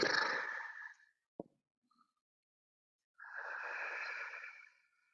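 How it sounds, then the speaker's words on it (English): Slow, drawn-out exhales during yoga, soft and breathy, with one long breath at the start and another after a quiet pause, plus a faint click between. "Extend those exhales."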